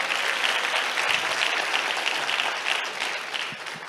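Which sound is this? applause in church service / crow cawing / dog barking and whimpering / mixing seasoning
applause in church service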